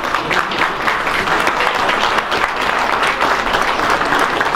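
Sustained, dense applause from a large audience at Prime Minister Manuel Valls's speech in Accra, Ghana, steady and loud throughout with no voices over it.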